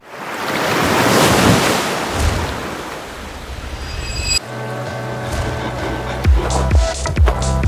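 Ocean surf and wind at a beach, a steady broad roar of breaking waves with gusty wind buffeting the microphone, loud and continuous throughout with a few thumps near the end.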